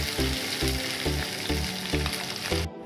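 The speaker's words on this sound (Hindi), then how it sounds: "अब इसमें हम जो है ग्रेटेड अदरक डालेंगे, थोड़े से बारीक कटे हुए प्याज फ्राई कर लेंगे।" Finely chopped onions with grated ginger sizzle loudly in hot oil in a pan, a steady dense frying hiss with rhythmic pulses, cutting off abruptly near the end; no voices.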